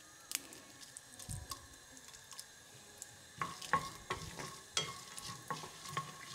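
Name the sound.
peanuts and chilies frying in oil in a pan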